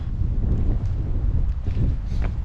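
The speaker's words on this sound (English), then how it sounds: "The wind is picking up" Wind blows steadily across a boulder-strewn stone river on a hike, a low, gusty rumble that buffets the microphone throughout without a break.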